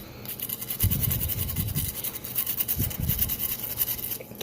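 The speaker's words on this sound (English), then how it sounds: "Kind of just get in there and brush it out." Close, rapid back-and-forth scrubbing of a brush cleaning carbon out of a Desert Eagle pistol bolt head, in steady bristly strokes with short pauses.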